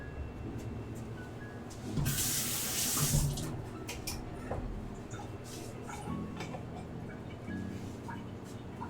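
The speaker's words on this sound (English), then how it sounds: "I use the lid to strain the water off of those guys." Water drained off cooked potatoes using a pot lid, a splashing pour with a sudden louder gush and then trickles, while someone talks quietly in a home kitchen.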